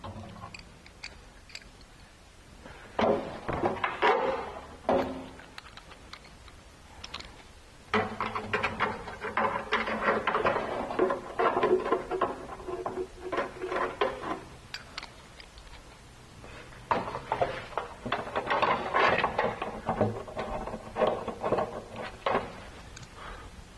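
Bolts being threaded by hand into a BMW E46 3-Series control arm during a 2005 suspension repair, heard as scattered metallic ticks and clinks in irregular bursts, close by, with quiet pauses between them.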